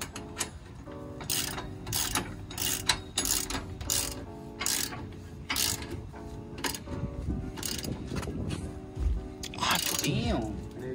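Ratchet tightening a bolt while installing a drop shock on a Ram 1500 RT, a steady series of rapid clicking strokes repeating in bursts, close and fairly loud, with people talking nearby.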